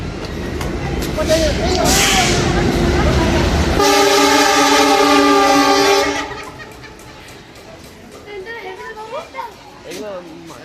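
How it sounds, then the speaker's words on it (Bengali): A loud freight train rumbles past a station with a long, sustained horn blast midway, while children's voices chatter nearby before and after. "মালগাড়ি"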